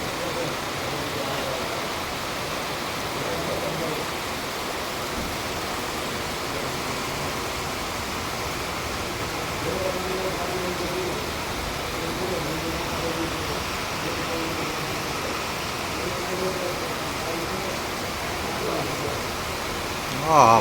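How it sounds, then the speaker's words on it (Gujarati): Heavy torrential rain in a village, a steady broadband hiss that stays even and moderately loud throughout, with faint voices under it. "ખૂબ જ વરસાદ છે, જોરદાર હો."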